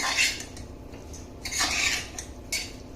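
Metal spoon scraping and clinking against a pot while mixing pav bhaji seasoned with turmeric, a few bright scraping strokes in bursts, close and alone with no talking.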